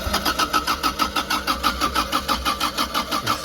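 A Toyota MK1 MR2 with a 1.6 engine cranking as it tries to start, a close, rapid, even rhythmic churning of the starter that continues throughout without catching.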